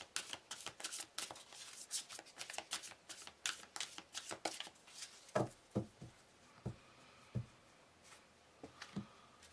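Tarot cards are shuffled and handled close by, with fast runs of crisp riffling and flicks at first, then sparser single snaps and taps as cards are laid down. Nobody speaks.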